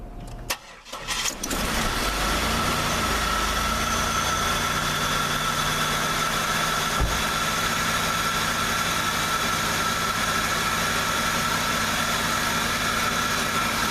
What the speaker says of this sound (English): Let's start the car, why not?